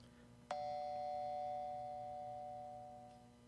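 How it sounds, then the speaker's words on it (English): A single electronic doorbell tone chimes once, clear and ringing, then slowly fades out over a quiet background. "Just then, the doorbell rings."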